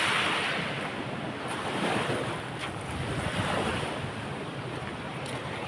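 Storm-driven ocean surf with waves around 10 feet high rolls and crashes onto the shore in a continuous wash, mixed with heavy wind buffeting.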